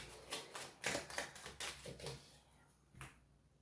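A deck of cards being cut and tapped on a table, a quick series of crisp slaps and riffles that taper off, closing with a single soft tap after a pause.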